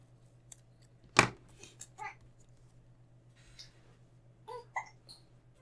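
A baby hiccups in a quiet room, a handful of small, sharp catches spread out over a few seconds, one noticeably louder than the rest, with faint background hum.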